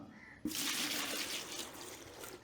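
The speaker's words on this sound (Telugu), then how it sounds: "వాటర్ ఒక హాఫ్ బకెట్ తీసుకుంటున్నా" Water gushing into a bucket being half-filled for mixing wall texture putty, starting abruptly and running as a steady close splashing pour with no talk.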